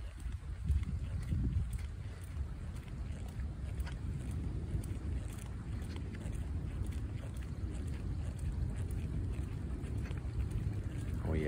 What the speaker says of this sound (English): It's like a stream in nature.